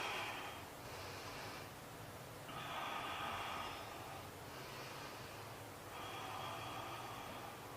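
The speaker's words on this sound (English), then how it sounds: "Breathe nice and deeply." Slow, deep breaths drawn in and pushed out through the nose during a barre core workout, rising and falling in long soft whooshes roughly every two to three seconds, close and quiet over faint room hiss.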